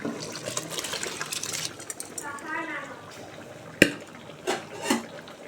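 Soaked rice being added to a pot of boiling mutton biryani, wet clattering and sloshing with a few sharp metal knocks from a utensil against the pot, while someone talks in Tamil.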